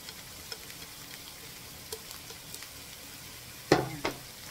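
Cabbage is stir-fried with garlic in a pan, giving a faint, quiet sizzle with scattered light ticks and a louder clatter near the end as the food is tossed.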